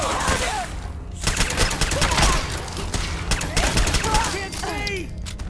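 Gunfire in a Fallout 4 firefight: rapid overlapping bursts and single shots crack steadily throughout, loud and close, mixed with shouting voices and other combat noise.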